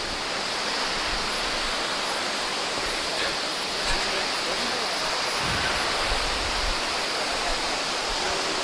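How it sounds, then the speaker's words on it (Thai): Continuous heavy rushing roar of the large Ton Na Phi waterfall in Thailand, steady and loud throughout with no pauses. "มันเป็น น้ำตกที่ใหญ่"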